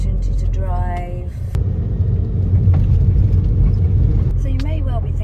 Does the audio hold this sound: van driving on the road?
yes